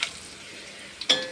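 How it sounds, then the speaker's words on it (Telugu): Chicken pieces frying in a pan on low flame, a soft steady sizzle broken near the end by a sharp stir and clink of a utensil against the pan. "ఈ చికెన్ ఇలా ఫ్రై అవుతుంది కదా"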